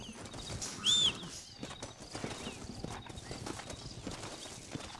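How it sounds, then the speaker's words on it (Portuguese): Horse hooves clip-clop on the ground in Red Dead Redemption, a steady near rhythm of hoofbeats with a brief whinny early on, over quiet game ambience. "Ah, meu cavalo tá chegando."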